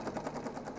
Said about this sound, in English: We'll just serge, cutting off all the previous serging.